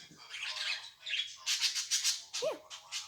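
Chirpy squawks from a young pet budgie, several short bursts and a quick rising-falling call, fairly close and moderately loud with no talking.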